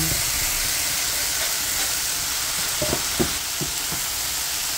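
Bitter gourd (ampalaya) and eggs sauté in a hot pan, giving a constant loud sizzle and hiss with a few clinks and scrapes of stirring toward the end.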